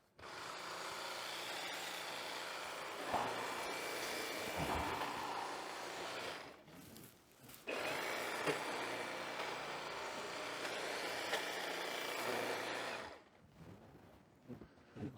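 A cordless Milwaukee hedge trimmer attachment whines steadily in two long bursts while cutting branches, cutting out briefly in the middle and stopping near the end, close by.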